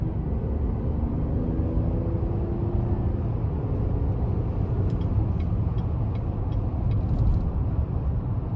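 Inside a 2021 Chevrolet Traverse Premier Redline Edition with the 3.6-liter AWD engine accelerating on a road test drive, a steady low engine and road rumble fills the cabin, with no talking.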